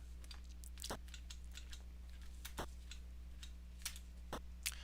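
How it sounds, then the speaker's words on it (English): A grandfather clock in an 80s horror video game ticks faintly and steadily, with a few sharper clicks spaced over a soft, constant hum. "Oh, it's the grandfather clock."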